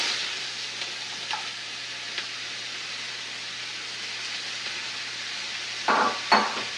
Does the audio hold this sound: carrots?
yes